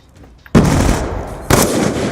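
Bursts of rapid automatic gunfire in a first-person shooter game, two loud sustained volleys close up, the first starting abruptly after a brief quiet moment and the second following a second later.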